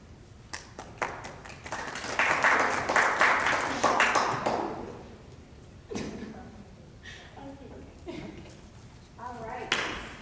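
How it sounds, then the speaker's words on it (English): Several people at a rehearsal for a collegiate pageant clap in a burst of applause that rises and then fades. Sharp single claps and thumps follow, and voices talk around the sound. "I'm clapping for y'all."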